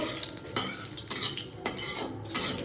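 Vegetables go into a hot kadai of mustard oil with cumin and dried chilli, metal spatula clinks and scrapes ringing out every half second over a low, quiet sizzle.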